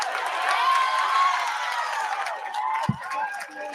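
A crowd at a college campus debate cheers and shouts in a loud, dense mass of voices that eases slightly toward the end, with a single dull thump near the close.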